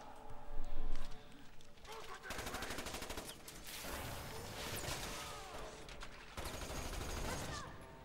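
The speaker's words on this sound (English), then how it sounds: "It got machine guns on us." Rapid machine gun bursts ring out in Resident Evil 6, several sustained volleys of rattling fire broken by short gaps, fairly faint beneath players talking.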